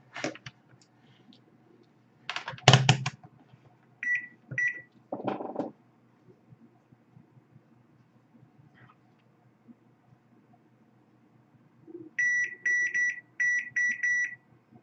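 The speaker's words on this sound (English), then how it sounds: "I am going to test and see if it beeps to make sure the wire is not broken." A continuity tester checks the inductor wire on an iPhone, giving short electronic beeps in two bursts, a brief group and later a longer run of repeated pulses, amid clicking and handling noise with no talking.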